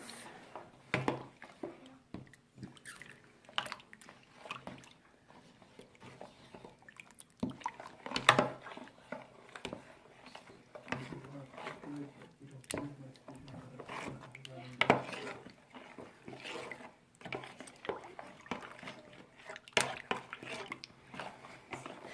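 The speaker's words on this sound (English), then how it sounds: "we're going to put the starter in this water and then you just mix it until it starts to dissolve" Sourdough starter being mixed into water in a bowl for bread dough, heard as soft, irregular wet stirring and light clinks against the vessel, quiet and close with intermittent talk.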